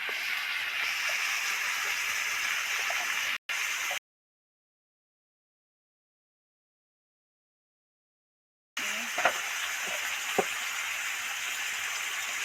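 Vegetables and spices fry in oil for a Bengali katla fish curry as turmeric powder goes in, producing a steady close sizzling hiss that cuts out abruptly for several seconds, then resumes with small pops.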